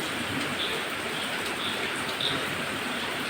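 Dense, even hiss of steady rain falling, constant and fairly close, with no voices or other distinct sounds.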